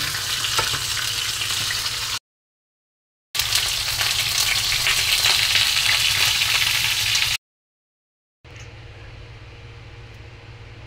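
Black pomfret fish frying in a pan gives a loud, steady, close sizzle in three long stretches split by abrupt silent gaps, the last stretch somewhat quieter.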